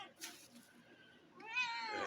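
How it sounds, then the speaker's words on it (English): A calico cat meows close by: one long, clear meow rises in the final second, after quieter rustling and soft sounds earlier on. "Like, she meows all the time."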